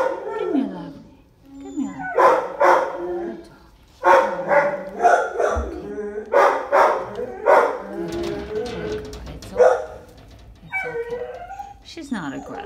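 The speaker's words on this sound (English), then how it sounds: "Just ignore that dog." A neighbor's dog barks, howls and yips repeatedly at close range, in loud uneven bursts with brief pauses.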